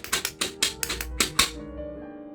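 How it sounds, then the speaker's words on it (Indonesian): A medicine bottle filled with pills shaken like a maraca, giving about eight crisp rattling bursts in an uneven rhythm, close and fairly loud, then stopping and leaving a quiet hum. "Karena ini di dalamnya ada butiran obatnya, jadi kalau digoyangkan, suaranya akan mirip seperti marakas atau shaker."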